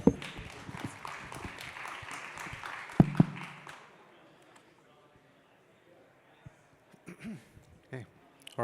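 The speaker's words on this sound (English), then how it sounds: "Give him a big round of applause, everybody." A conference audience applauds a presenter, dense clapping filling the first four seconds before dying away into near silence, with a few faint scattered sounds and a voice after.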